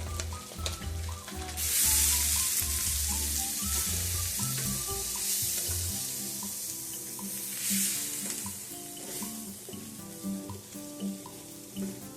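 Flour browns in a hot pan beside steak and bacon, giving a moderate steady sizzle with a few scraping stirs and a brief louder hiss burst near the start.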